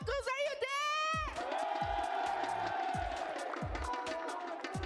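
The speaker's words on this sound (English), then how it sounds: "Team Falcons crowd are going crazy and they are chanting Falcons, Falcons" An esports arena crowd cheers for Team Falcons at the Free Fire grand final, a loud, sustained roar with whoops and rhythmic chanting or clapping pulses beneath.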